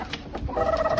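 A chicken clucks and squawks briefly, a few rough calls up close rising into a louder held cry.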